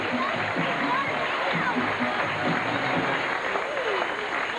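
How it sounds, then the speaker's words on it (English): A crowd at a 1989 dolphin show applauds a performing dolphin beside the pool, a continuous roar of clapping mixed with a hissy splashing wash and a murmur of voices underneath. "How about a nice round of applause for Lucky?"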